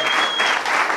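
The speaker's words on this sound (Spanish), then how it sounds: "Oye, fuerte el aplauso, hombre." Audience applause at a Tenerife carnival event, a dense, steady clapping from a large crowd filling the whole moment, loud and continuous without a break.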